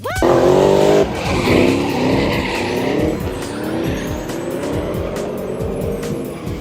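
A car in the Lock City Drift video game slides through drifts, its engine revving loudly while tires squeal in long sustained bursts, with the engine note rising and falling throughout.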